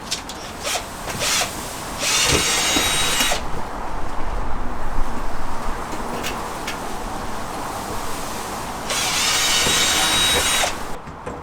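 A power drill bores holes into the hull of a Pryml Titan kayak, with two sustained bursts of whirring near the start and end and steady lower-level workshop rumble between them.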